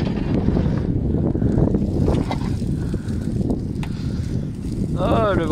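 Strong north wind in rural Canada roars and buffets against the microphone in a constant low rush, with a voice briefly audible near the end.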